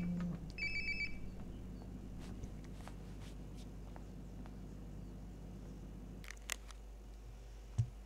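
An in-game telephone rings in Life Is Strange Before the Storm, a steady repeating electronic ring that is faint and sits under background ambience, with a few soft clicks later on.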